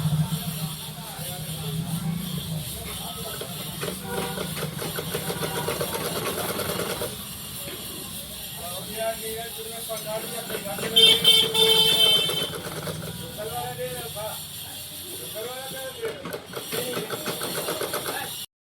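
Sewing machine stitching a blouse sleeve, running steadily as a continuous close mechanical whir with a rapid stitching rattle for the whole stretch and slight shifts in intensity.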